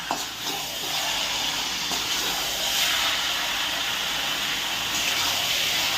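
Potato curry sizzles steadily in a hot pan as it is fried and sautéed, a dense, even hiss that stays loud and unbroken throughout.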